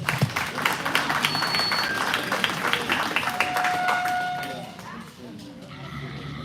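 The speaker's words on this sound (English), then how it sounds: "Let's give her a round of applause." A crowd claps steadily and loudly at a Boise City school district livestock show, a dense wash of applause that tapers slightly toward the end.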